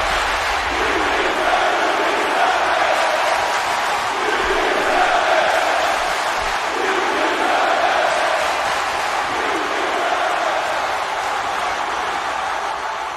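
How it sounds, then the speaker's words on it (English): A large crowd in the WWE 2K19 video game roars and cheers continuously at high volume, a dense wall of voices with rising swells throughout. "And the crowd is loud tonight."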